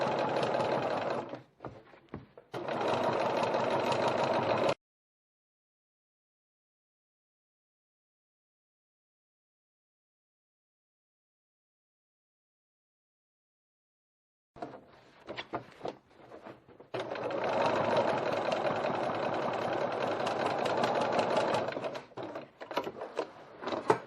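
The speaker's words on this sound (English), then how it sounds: "time to reinforce my stitching to make the seam nice and secure. Just on top of the previous stitching." A sewing machine runs over a bag seam to reinforce the stitching, heard as a fast, steady mechanical whirr in two close bursts separated by a long silence, with no talking.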